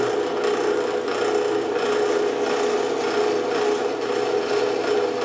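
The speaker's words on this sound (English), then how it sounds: "drilling our first hole in the" A drill grinds steadily into a metal spacer for an electric scooter motor install, a continuous loud whirring rasp with a sharp whine that holds without a break.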